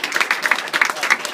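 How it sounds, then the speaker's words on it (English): A short burst of applause from a small audience at a meetup, with close, uneven hand claps. "we give Rob a round of applause for Portland."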